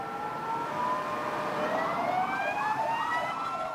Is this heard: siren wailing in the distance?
yes